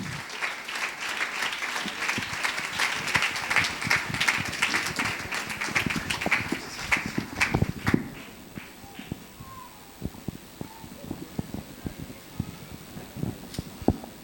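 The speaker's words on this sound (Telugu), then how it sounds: "వారిని చప్పట్లు కొట్టి ఆహ్వానిద్దాం." A church congregation applauds to welcome a pastor, dense clapping fading after about eight seconds into scattered claps and taps in a quiet hall.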